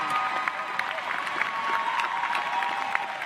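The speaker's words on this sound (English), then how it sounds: "a big round of applause to his mom" An audience at a university social work graduation ceremony applauds steadily in a large hall, a dense continuous patter of clapping from many hands with faint crowd murmur underneath.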